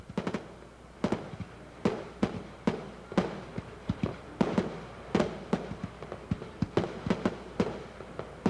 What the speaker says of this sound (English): Once the sun set, the skies lit up with fireworks.